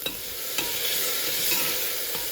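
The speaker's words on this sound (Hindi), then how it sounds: "टमाटर को थोड़ा सा भूनेंगे।" Tomatoes frying in a pan with turmeric and salt, giving a steady broadband sizzle throughout, with a few soft scraping clicks from a stirring spoon; no voices.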